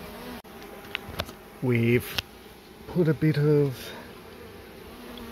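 Honey bees buzz steadily around a hive being relocated, with a few louder close passes swelling and fading as a person talks briefly.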